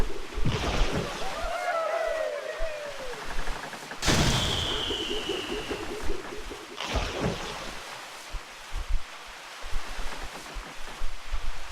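Cannon fire of chain shot in the Sid Meier's Pirates! naval battle, with sharp booming blasts and whistling projectiles over a rushing wind-and-sea ambience, several shots spread across the stretch.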